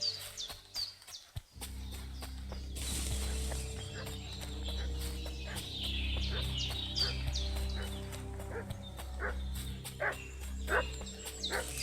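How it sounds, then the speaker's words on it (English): A dog barking in the medieval village world of the game Kingdom Come Deliverance II, repeated sharp barks at a moderate distance, mixed with birdsong and a steady low ambient bed. "What's that dog making such a fuss about?"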